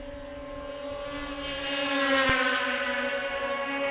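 Arctic Cat racing snowmobiles at the Canadian Power Toboggan Championships drone with high engine whine, swelling as they pass and then fading slightly, heard from trackside.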